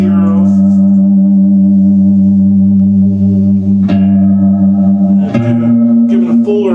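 Sustained electric guitar notes with a thick, shimmering chorus effect, loud and wavering, with a couple of new chords struck near the end.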